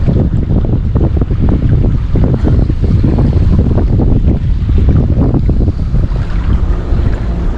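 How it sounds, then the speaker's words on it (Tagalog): Strong wind at sea while fishing roars continuously across the microphone, with choppy water and waves churning underneath, loud and unbroken throughout. "Mahangin kasi."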